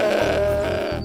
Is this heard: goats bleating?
yes